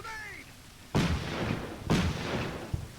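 Gunfire and grenade blasts in close infantry combat from the WWII Normandy strategy game Combat Mission: two loud broadband bursts about a second apart, each trailing into rumbling noise, with a faint sharp pop near the end.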